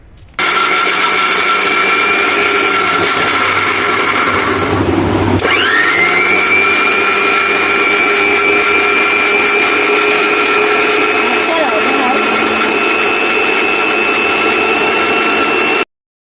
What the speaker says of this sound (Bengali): দেখো আমার জুসটা ব্ল্যান্ড করা হয়ে গেছে